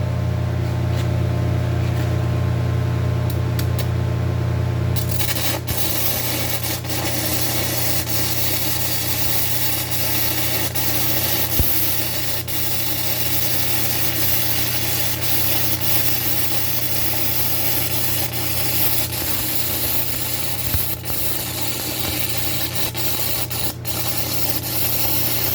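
Stick welding with a 6011 rod at 120 amps on rusty steel: a steady, loud crackling hiss over a welder's hum runs continuously for about twenty seconds, beginning after a few seconds of hum alone, with occasional pops.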